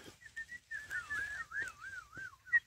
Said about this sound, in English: after he has whistled, they have stopped